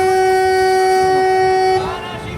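Loud, sustained horn blast from a large vehicle in heavy traffic, a steady tone held close and strong for nearly two seconds, then dropping into a softer mix of engines and road noise.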